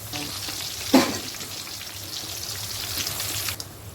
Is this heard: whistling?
no